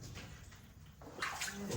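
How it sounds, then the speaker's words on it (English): Water splashes and trickles nearby inside an abandoned 1920s mine, faint at first, then a brighter burst of flowing, sloshing water takes over in the last half. "There's still a lot of water flowing along here."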